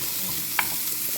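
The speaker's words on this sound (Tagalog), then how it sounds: "Pakita ko na sa inyo kung paano natin ipiprito. Lagay ko yung onion dito." Onion frying in a pan, a short burst of sizzling with a brief stir, close by and alone.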